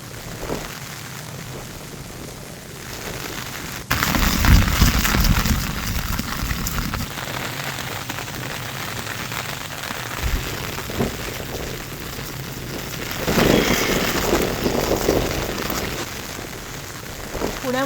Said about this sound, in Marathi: पुण्यामध्ये मेघगर्जनेसह पावसाला सुरुवात झालेली पाहायला मिळते